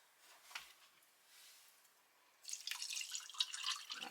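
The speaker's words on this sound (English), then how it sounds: "That's about 250 ml of water," Water poured into a lemon isotonic drink mix from a Bundeswehr halal combat ration; drips and light handling at first, then a steady splashing pour of about 250 ml in the second half, close and alone.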